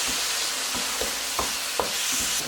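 Grated tomato and finely chopped garlic sofrito reducing in a pan for seafood rice, a continuous bright sizzle with a few soft spoon taps and scrapes.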